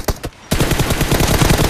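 Gunfire in a mobile shooter game during a 1v1 team deathmatch fight: two quick shots, a brief gap, then a loud, dense, continuous automatic burst of rapid rounds.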